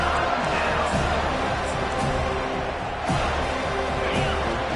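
Home crowd at a college football game, a steady dense roar of cheering and noise on third down that holds level throughout, with a broadcast voice faintly mixed in.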